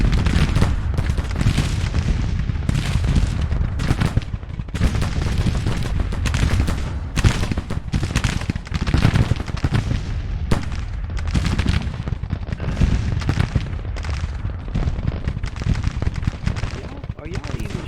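Dense, continuous musket volleys from Civil War brigades in the strategy game Grand Tactician, rolling crackle and booms overlapping without pause, loud and close throughout.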